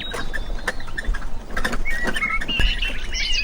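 Birds calling near a nesting area by the River Maun, with short chirps and high tweets scattered over a close, rustling and pattering background, fairly loud and with no talk.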